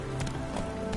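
Roach the horse galloping in The Witcher 3, quick rhythmic hoof thuds in a rapid three-beat pattern over a steady background, close and moderately quiet, over about a second.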